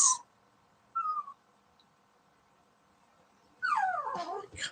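A dog whimpers close by in a few high, thin whines: a short one, another after a pause, then a longer wavering series of whines and yips near the end, with quiet gaps between.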